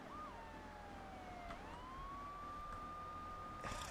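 Police car siren in GTA III: Definitive Edition wails in a long rising and falling tone, steady and fairly distant over a low engine hum and game ambience.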